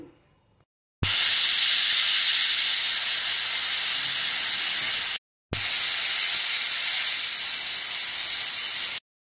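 A pressure cooker releases steam after cooking gota sedho with lentils overnight, giving two long, loud, steady hisses of about four seconds each, split by a brief silence.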